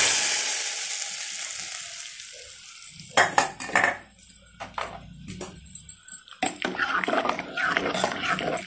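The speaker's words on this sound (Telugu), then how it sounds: "పోపు అంతా ఇలా కలపాలి మంచిగా" Fried tempering is stirred into thin lentil dal: a fading sizzle gives way to clinking spoon-and-pot scrapes and wet stirring in irregular close bursts, with no talk.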